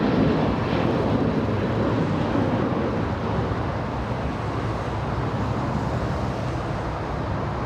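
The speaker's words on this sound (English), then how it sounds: "So that's the Lufthansa 747" A Lufthansa Boeing 747 airliner at LAX airport, a broad, steady jet roar that fills the air continuously at moderate loudness, heard from some distance with no talking.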